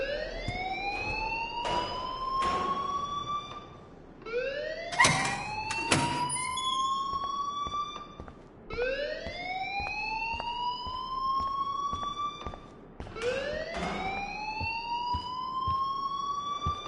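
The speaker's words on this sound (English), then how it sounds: "please turn off that alarm since that's your job" Repeating rising electronic alarm wail in the video game Life is Strange, sweeping upward roughly every four seconds, loud and close, with a few sharp clanks between cycles and no voices.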